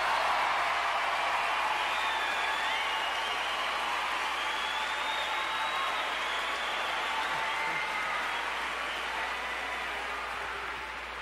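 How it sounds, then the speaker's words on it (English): Sustained audience applause at an Eddie Murphy stand-up comedy show, a dense, loud wash of clapping with crowd noise that holds steady for about eleven seconds before easing slightly at the end. "how about a big round of applause for the bus boys?"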